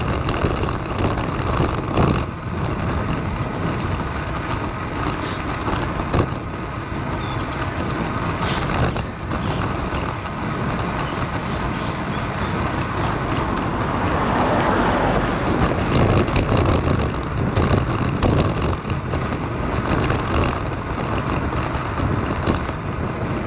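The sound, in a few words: cars passing on a road while cycling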